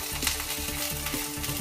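Spring onion sizzling and frying in a pan while chicken fricassee with artichokes is being cooked, a steady close crackle running throughout.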